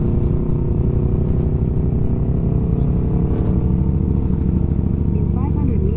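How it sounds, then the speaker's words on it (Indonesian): A motorcycle with a loud exhaust rumbles steadily while being ridden on winding roads toward a camping ground at the foot of Bromo, a close, constant engine drone with slight revving near the end. "berisiknya ini knalpotnya"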